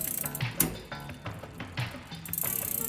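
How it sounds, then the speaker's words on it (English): A bicycle rear derailleur on a Box Three Prime 9 mountain-bike drivetrain shifts the chain down onto the highest gear, giving close mechanical clicks and ratcheting ticks in rapid succession with no talking. "slowly turn the high limit screw counterclockwise until the chain comes down to the highest gear"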